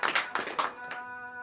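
A church congregation at a Beninese morning prayer service claps in bursts, several sharp, close handclap clusters in quick succession before fading into a sustained ringing tone.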